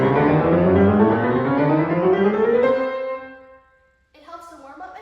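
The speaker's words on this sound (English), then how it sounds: "One of my favorite exercises to do when practicing is chromatic scales, which sound like this." Chromatic scales on a piano run in a quick ascending line of close-stepped notes that ring and fade, then a short gap before a few softer notes enter.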